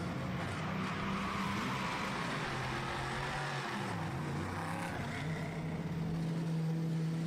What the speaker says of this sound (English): The Mercedes AMG GT2 entered by RTR Projects.